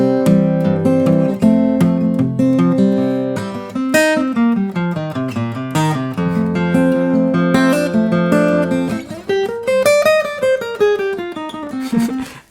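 Guitar minor-scale runs over a strummed acoustic backing in a blues lesson, single picked notes rising and descending in quick phrases, bright and close, with no voices.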